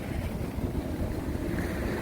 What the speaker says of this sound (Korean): 별로 뭐 지장을 줄만한 파도는 아니지만 그래도 좀 높은 편이네요